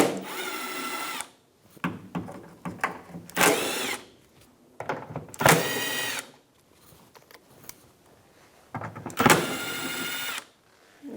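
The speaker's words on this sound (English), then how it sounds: "with a 10mm socket, we're just going to spin those out" A power driver with a 10mm socket spins out the tailgate bolts on a 2011-2021 Jeep Grand Cherokee, sounding as four loud close whirring bursts of one to two seconds each, separated by short quiet gaps and softer handling noise.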